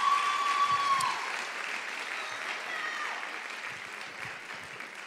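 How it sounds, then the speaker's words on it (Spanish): Audience applause fills a church youth event, steady broadband clapping throughout with a brief tone at the start, continuing alone without speech. "Aplausos para el Dylan"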